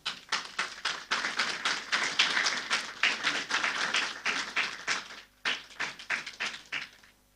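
A congregation at a Quechua Sunday church service gives applause to welcome a choir: fairly faint, rhythmic claps in steady bursts, with a short pause before the clapping resumes and tapers off, no talking.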